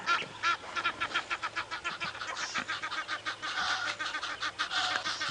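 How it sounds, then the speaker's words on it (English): An Egyptian goose takes flight on a sunrise safari drive, giving a rapid, rhythmic run of harsh honks that carries steadily at moderate distance over faint outdoor background noise. "Egyptian goose just going for a little flight."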